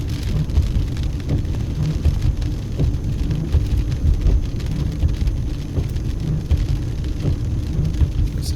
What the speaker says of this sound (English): Ooh, nice lightning shot there.